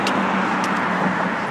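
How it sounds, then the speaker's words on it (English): Road traffic rushes past steadily beside a flat suburban walking route, a continuous close broadband roar with no speech. "Little bit of traffic, but you can zone that out."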